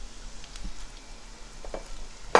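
Tablespoon of garlic frying in a hot pan for pork loin cordon bleu, a faint steady sizzle with a few soft stirring scrapes and a sharper clink near the end, no talk.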